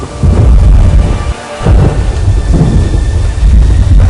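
A thunderstorm with heavy rain: loud, dense rainfall under rolling thunder, with a brief dip in the downpour partway through before it surges back.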